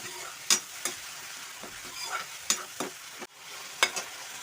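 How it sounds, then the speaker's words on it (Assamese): Chopped tomato and spices fry in a pan for a greens and egg curry, a continuous close sizzle punctuated by a few crisp spoon knocks and scraping stirs against the metal. "এইখিনি অলপ ভাজি ল'ব লাগিব ভালকৈ।"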